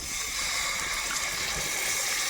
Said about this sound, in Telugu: ఇంకా నీళ్లు పోస్తున్నా